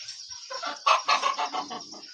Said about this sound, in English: You see the chicken there?